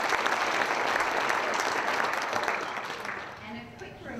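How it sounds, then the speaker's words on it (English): A conference dinner audience applauds the chef and kitchen staff, a dense, steady wash of many hands clapping close by that gradually fades toward the end. "I just want to do a round of applause for the chef and all the people that made that food happen"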